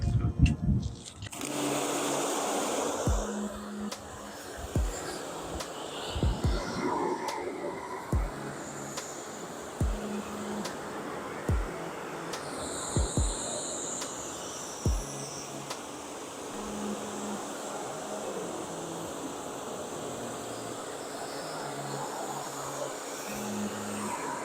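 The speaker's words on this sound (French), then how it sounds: "On va passer au rinçage pour voir ce que ça donne." Water sprays steadily across a car, rinsing off SONAX Actifoam Energy foam. A continuous broad hiss runs throughout, broken by occasional faint knocks and soft background sounds.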